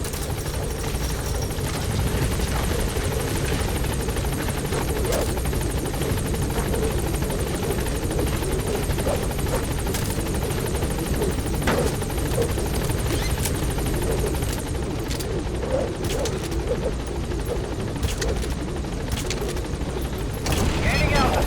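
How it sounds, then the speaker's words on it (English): A support helicopter from the game Metal Gear Solid V hovers close by, its steady loud rotor thrum and whine filling the scene continuously, with occasional clanks and brief mechanical bursts on top. "Support boss. helicopter has arrived."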